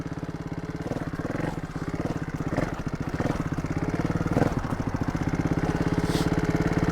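A Beta 300 trials motorcycle revs steadily while climbing a step in second gear, a loud, close, continuous chugging engine note with rhythmic pulses and brief throttle surges.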